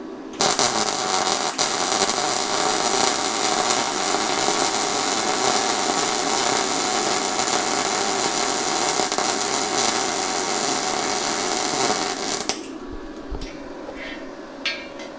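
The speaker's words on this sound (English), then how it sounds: "some 14 gauge steel here that I'm going to try and MIG weld" A YesWelder YWM-211P MIG welder at 125 amps and 17.3 volts joining 14 gauge steel, a loud steady crackling hiss running unbroken for about twelve seconds before cutting off to quiet handling noises.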